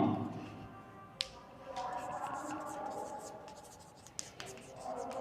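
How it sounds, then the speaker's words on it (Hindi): Pen or marker scratching out notes by hand during a Hindi science lesson on hydrogen bombs, a soft continuous scribble with a couple of sharp taps, close and fairly quiet under faint room noise. "मैं यहाँ पर लिख देता हूँ।"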